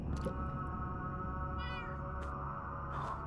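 In a horror game map, a cat gives a short, clear meow over a constant low droning background, with a few faint clicks scattered around it.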